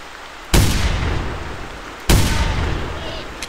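Two loud 20 gauge shotgun blasts fired at distant Canada geese in theHunter hunting game, each a sharp crack at about a second and a half apart with a long rolling echo decaying behind it.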